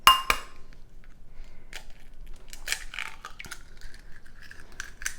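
An egg cracked against a bowl for toffee pecan bars: a sharp tap up front, followed by scattered light clinks and shell rustles close by.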